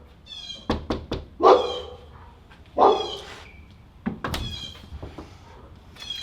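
An untrained, out-of-control dog barks indoors in sharp, loud bursts spaced a second or so apart, mixed with knocking sounds.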